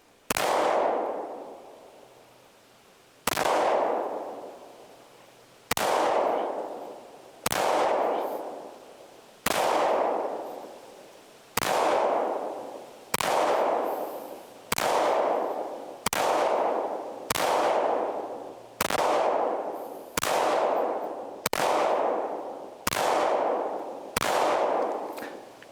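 An FN 510 10mm handgun fires Federal ammunition in a slow, steady string of about fifteen sharp, loud shots spaced a second or two apart, each ringing out and decaying before the next, with no talking.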